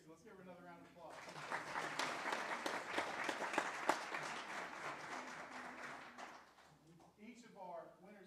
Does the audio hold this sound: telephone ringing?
no